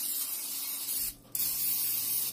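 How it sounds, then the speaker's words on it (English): Two short hissing bursts of cooking oil spray onto an air fryer, close by, separated by a brief pause, with a faint hum underneath. "Spray some grease on my air fryer."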